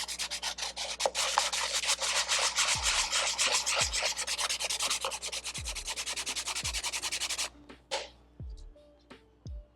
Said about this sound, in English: If I sand it,